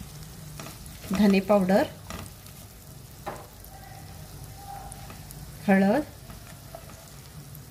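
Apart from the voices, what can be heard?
roasting garam, goda masala, coriander, turmeric in pan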